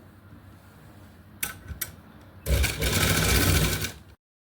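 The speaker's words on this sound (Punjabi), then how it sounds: "ਇਹ ਦੋਨੇ ਲਾਈਨਿੰਗਾਂ ਨੂੰ ਆਪਾਂ ਸਲਾਈ ਇੱਥੋਂ ਲਗਾ ਦੇਣੀ ਆ" A sewing machine stitches frock lining: a couple of short clicking bursts, then a steady close rattling run of stitching for nearly two seconds before stopping abruptly.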